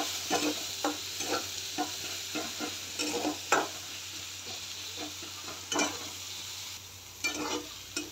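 Onion and plenty of garlic frying in oil until soft, a low continuous sizzle with repeated spoon stirs and scrapes against the pan, fairly quiet and close, no speech.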